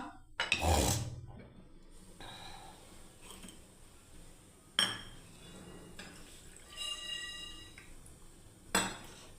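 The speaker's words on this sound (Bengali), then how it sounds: "এবার আমি কড়াই চাপিয়ে দিলাম আবার" A wok set back onto a stove, with a few sharp metallic clanks and clinks separated by quieter gaps, close and fairly faint overall.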